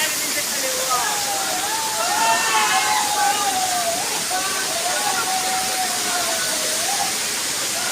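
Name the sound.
Shankar Khola waterfall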